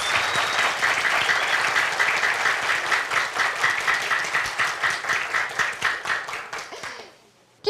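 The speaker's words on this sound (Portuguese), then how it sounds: "caloroso aplauso aí para os nossos participantes" A television studio audience applauds the participants of a Valentine's Day special, loud, dense clapping that holds steady with a rhythmic pulse before fading out abruptly at the end.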